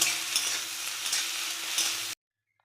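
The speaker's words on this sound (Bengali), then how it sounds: "নুন হলুদ দিয়ে চিংড়ি মাছটা ভেজে নেব।" Prawns fry in hot oil with salt and turmeric, giving a steady, close hiss and crackle with light stirring scrapes that stops abruptly after about two seconds.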